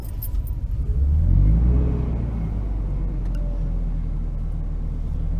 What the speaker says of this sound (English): every time I started up the van, it was making a crackling sound